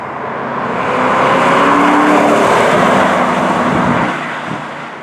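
A 2005 Ford GT sports car drives by with a steady, fairly tame engine note that swells in and holds for a few seconds, then fades slightly at the end.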